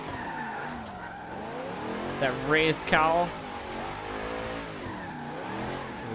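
A Hoonigan Napalm Nova drift car in Forza Horizon 3 slides through a drift, its tires squealing in two rising bursts over a steady engine drone, with someone talking over it.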